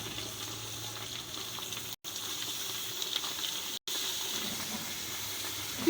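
Onions frying in oil in a pan for a kohlrabi and meat dish, giving a steady, fairly quiet sizzle and hiss throughout with no one speaking.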